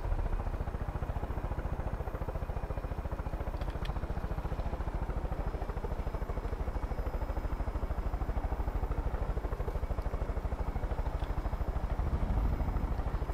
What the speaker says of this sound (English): Why have my helicopter suddenly started flying weird?